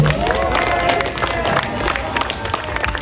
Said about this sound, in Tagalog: Isang palakpak nga po kay artist ko, Tika.